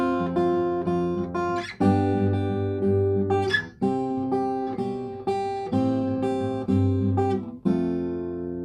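A guitar plays the chorus of a song in strong strummed chords, with a fresh attack roughly every second in an even, rhythmic pattern, clear and close with no voice.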